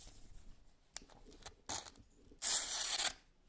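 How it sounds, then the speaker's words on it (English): A freshly sharpened kitchen knife slices through paper, giving a few short crisp swipes followed by a longer, louder rasping cut, close and clear with no speech. "how it performs cutting paper."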